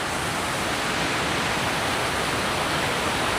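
Water rushes steadily over an irrigation dam, a dense, even roar that stays loud and unbroken from start to finish with no other sounds on top.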